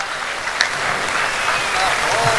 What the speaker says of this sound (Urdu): زوردار تالیوں سے استقبال کیجئے بھائی